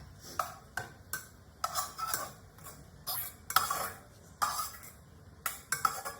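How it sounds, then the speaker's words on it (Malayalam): Chicken being stirred into sautéed masala in a pan for a home-cooked chicken curry: repeated sharp scraping clinks of a spoon against the pan, close and fairly quiet, coming in irregular bursts with no talking. "നല്ലപോലെ മിക്സ് ചെയ്ത് കൊടുത്ത്"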